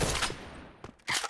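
Gunfire in a tactical team shooter match, with loud bursts of shots at the start, a sharp crack near the middle and another loud burst at the end.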